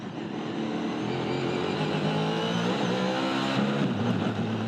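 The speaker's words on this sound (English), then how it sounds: "As soon as he got to top RPM, sounded like it sucked the valve" Trans Am race car engine at top RPM with a valve failure, a loud continuous roar with shifting harmonic tones, close and steady, no talk.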